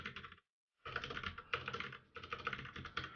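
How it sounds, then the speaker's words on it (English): Quiet, close clatter of a computer keyboard, with rapid bursts of key presses separated by brief pauses. "typing is difficult"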